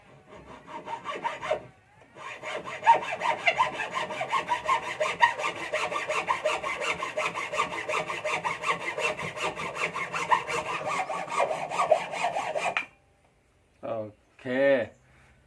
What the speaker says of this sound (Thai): ทำการตัดเลยนะครับ โดยใช้ เลื่อยมือแบบนี้นะครับผมทำการตัดเลย